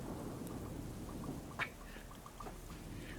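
Steady rain hisses close and even throughout, and a single brief crack of thunder cuts through partway, with no talking.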